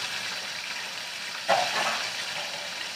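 Fish frying in hot oil in a home kitchen, four pieces in the pan: a steady soft sizzle with a brief louder crackle partway through, no talking.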